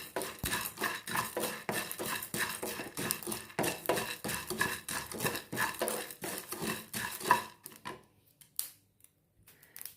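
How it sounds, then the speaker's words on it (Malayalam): Cumin and fennel seeds are roasted in a pan and stirred with a utensil that scrapes and clinks in a quick, regular rhythm, close by, until the stirring stops near the end. "ഇനി 1 ടീസ്പൂൺ പെരിഞ്ജീരകം അതും കൂടെ ഇട്ട് കൊടുത്ത് ഇതെല്ലാം കൂടെ ഒന്ന് നല്ലതുപോലെ ഒന്ന് വറുത്തെടുക്കാം."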